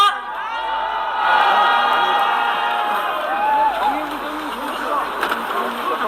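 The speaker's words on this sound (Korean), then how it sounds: "여러분 큰 박수 부탁드립니다." A rally crowd outside Samsung Medical Center in Seoul cheers and applauds as the Daegu youth chairman of the Our Republican Party takes the stage, with scattered whoops and a voice over the steady crowd noise.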